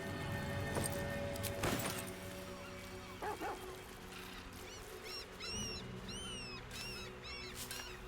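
A dog in the Baldur's Gate 3 video game gives a couple of sharp barks, then a run of high, rising whimpers and whines over a quiet ambient game background.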